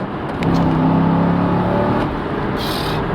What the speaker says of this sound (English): Wow, just that sound alone. It's a small block V8, 6 liters, 400 horsepower.